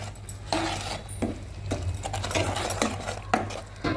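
Salted flour dough is stirred in a pot for a festival karadai, with a spoon dragging and scraping in quick repeated strokes, up close and fairly loud over a low hum, without any talking.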